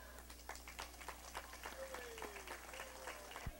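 Audience applause at the Huntingburg sesquicentennial celebration, a quiet, distant patter of clapping hands with a low steady hum underneath, lasting a few seconds.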